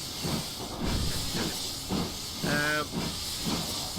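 Steam hisses steadily from GWR 6960 Raveningham Hall, a steam locomotive on the West Somerset Railway, with a brief whistle-like tonal burst midway and pulsing chuffs throughout, fairly close and continuous.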